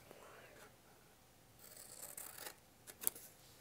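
Scissors cutting out a paper square for a lip balm gift box, a soft snipping and scraping that grows louder toward the end, with quiet whispery talk.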